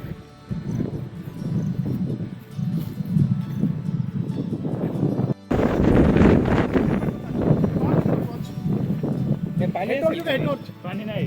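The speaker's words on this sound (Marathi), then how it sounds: "आणि या ठिकाणी प्रचंड असा वारा आहे." Strong wind at a hill fort rumbles and buffets the microphone throughout, heavy and continuous, under someone talking.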